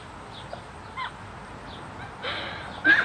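Chickens let out to peck at a smashed watermelon give a few scattered, faint clucks and calls over steady outdoor background noise, with a slightly louder call near the end.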